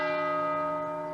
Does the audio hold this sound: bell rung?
yes